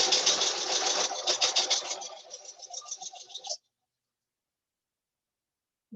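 Sewing machine stitching quilt fabric for a Dresden quilt block, a rapid buzzing run of stitches that slows into a few softer bursts before stopping, leaving near silence.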